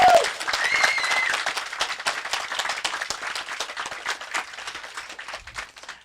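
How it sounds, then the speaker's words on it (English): An audience at an esports grand finals tournament gives a quick round of applause, a dense burst of many hands clapping that fades gradually toward the end, with a brief voice at the start. "Quick round of applause for them."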